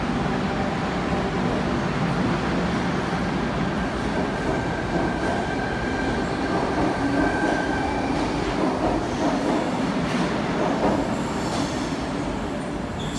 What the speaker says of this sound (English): Tangara service now departing, stopping at Town Hall, Martin Place